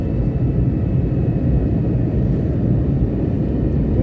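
A Wizz Air passenger jet descending to land at Budapest, heard from inside the cabin as a steady, loud, broadband engine and airflow roar that holds evenly throughout with no voices.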